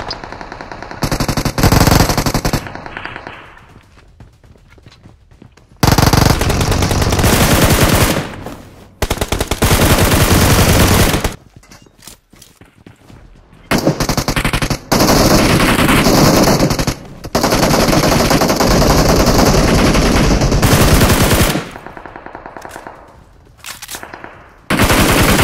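A SCAR assault rifle in the BGMI / PUBG Mobile video game fires in long, loud, rapid automatic bursts separated by short gaps, the bursts loud and close with no talking over them.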